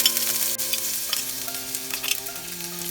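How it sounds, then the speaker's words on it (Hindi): Garlic fries in a little olive oil in a soup pot over a medium flame, giving a steady close sizzle with some stirring and faint tonal music underneath and no speech. "अभी मैं इसमें ऐड कर रही हूँ ऑलिव ऑयल।"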